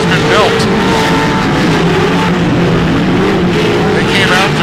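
Pro2 short course race trucks roar around the dirt track at Glen Helen Raceway. Loud, sustained engine noise with rising and falling revs runs throughout, while a commentator talks over the racing.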